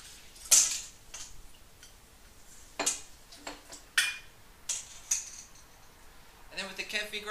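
Kitchen straining of water kefir through a clean sieve into a bowl, heard as scattered light clinks and taps of sieve and bowl with quiet gaps between them.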